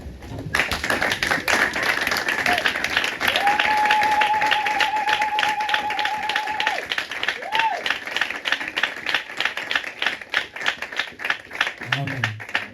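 A church congregation applauding during a French-language Sunday service, broadband clapping sustained across the whole stretch at steady loudness, with a held musical tone and other church sounds mixed in beneath.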